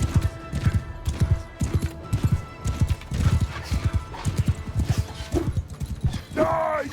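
A horse gallops in Mount & Blade II Bannerlord with a steady, heavy drum of hooves that runs throughout, and a short whinny near the end.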